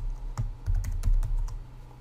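Light clicking keystrokes on a computer keyboard, a short irregular burst of taps close by, with no voices.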